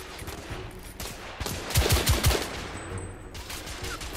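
Assault rifle fire in the video game The Order, quick bursts of shots of moderate loudness with a cluster of rapid rounds in the middle, set against a noisy battle backdrop.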